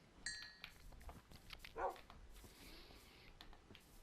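Dog barking inside the Minecraft video game, a brief clipped yelp standing out near the middle over soft game sounds, with a few faint clinks early on.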